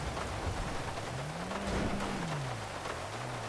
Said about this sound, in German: Mensch, der Regen ist so laut, ich höre den Fahrer nicht mehr.